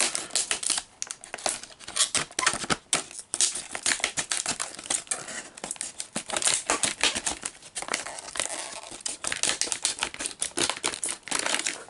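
Scissors snip and crinkle through a plastic Hot Wheels blister pack on a 2004 Players series card, a dense run of close crackling cuts and crumples lasting throughout with no talking.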